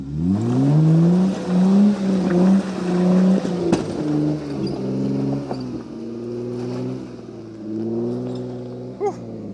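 A vehicle on a rough island trail in Michigan revs hard and loud over a bump, its engine note rising and falling, with a sharp knock near the middle as the back bumper slams the ground.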